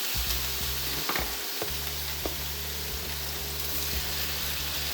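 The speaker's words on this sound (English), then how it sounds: "If you love the smell of peppers and onions cooking, just by itself smells so good" Peppers and onions fry in a pan with a constant, bright sizzle, broken by a few soft stirring clicks and scrapes, close and fairly quiet throughout, without any talking.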